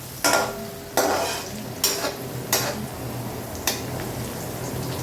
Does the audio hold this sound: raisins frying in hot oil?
yes